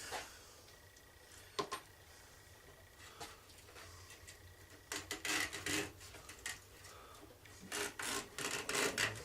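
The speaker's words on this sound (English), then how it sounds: "I'm just taking a nice sharp razor and going around it." A sharp razor blade trims around sieve material in a home workshop, giving quiet scraping and rubbing strokes that come in short bursts, growing more frequent and louder toward the end.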